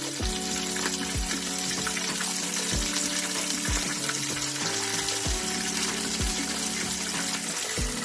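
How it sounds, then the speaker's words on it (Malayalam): Squid rings fry in hot oil with a steady, dense crackle and bubbling hiss that holds evenly throughout, with no voices. "തിരിച്ചിട്ട് കൊടുത്ത് നല്ല ക്രിസ്പി ആകുന്നിടം വരെ നമ്മൾ ഫ്രൈ ചെയ്തെടുക്കണം."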